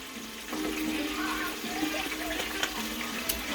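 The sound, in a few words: splash of water running from tap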